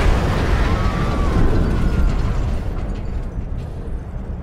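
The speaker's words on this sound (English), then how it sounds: "Only a fluid overload could make that kind of noise." A fluid overload blast in the Mars: War Logs game, a loud rumbling boom that roars for a couple of seconds and then fades away, with a faint whistling tone near the start.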